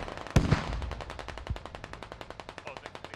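Gunfire in the video game SquadOps: a sharp heavy shot followed by a long, evenly spaced automatic burst of rapid shots that stays loud and close throughout.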